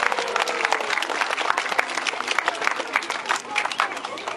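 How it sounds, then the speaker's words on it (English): Aquarium audience clapping for seal trainers after a seal show, a dense, steady round of applause from a crowd, loud and close, with scattered voices mixed in. "Can you guys give Luke and Gunther and Kazia a big round of applause?"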